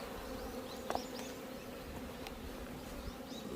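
Honeybees buzzing steadily at a beehive entrance on an October morning, a dense continuous drone of many insects close by with occasional brief louder passes, no voices.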